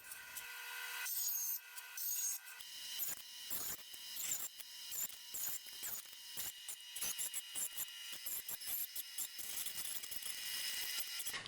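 A round plywood piece being cut on a lathe, giving a continuous rough scraping and rasping of wood under the tool, with rhythmic grinding pulses and brief pauses as sections are cut off around the edge, close and fairly quiet.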